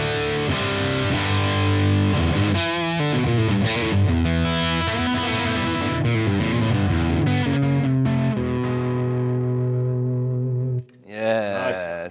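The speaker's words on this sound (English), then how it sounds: "it'll add more distortion when I kick in the boost." Heavily distorted electric guitar through a BOSS Nextone amp on the lead channel with boost plays a sustained lead riff with thick saturated tone, loud and continuous, ending with a short pause and a final strum.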